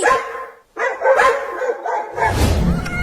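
Loud, close dog barks come in quick bursts, one after another, with a harsh yelping edge and a noisy scuffle at the end.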